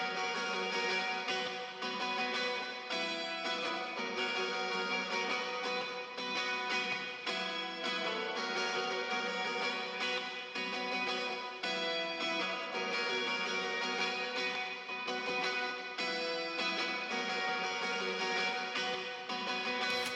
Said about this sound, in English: it's just this really high guitar part, drenched in reverb, rolled off a little bit